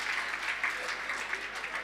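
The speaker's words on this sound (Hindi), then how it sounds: "तालियां कम बजाई हैं, जरा जोरदार बजाओ एक बार मिलकर" A crowd at a Hindi poetry gathering claps in a brief, even burst of applause, moderately distant and fairly quiet.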